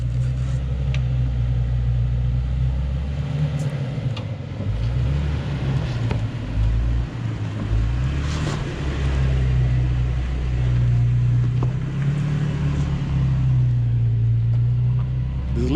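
A Toyota Tacoma pickup truck drives past on a rural road, a steady low engine and tire rumble that stays fairly close and loud throughout.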